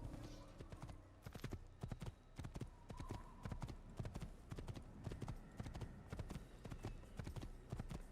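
Horse hooves clip-clop at a steady gallop in the video game Assassin's Creed, a rapid, even train of close, sharp hoof strikes running throughout at moderate loudness, with no one talking.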